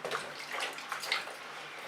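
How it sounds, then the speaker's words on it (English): Tap water runs in a steady, close, splashy stream while acrylic paint is washed off messy hands after a funnel pour. "So I'm going to clean my hands off because that was very messy."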